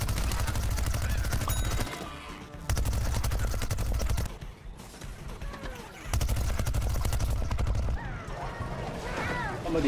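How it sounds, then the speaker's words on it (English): Rapid gunfire in Plants vs. Zombies Garden Warfare 2 aimed at the player, with dense automatic bursts broken by short pauses around two, four and six seconds, and mechanical clatter mixed in. "Somebody shooting at me"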